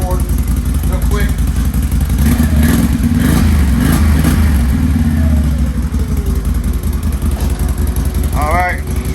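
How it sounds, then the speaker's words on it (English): A 2022 Can-Am XMR 570 on its stock exhaust rumbles loudly and steadily close by. The throttle swells in the middle and then eases back, and a voice is heard briefly near the end. "give you a little throttle rumble for it real quick"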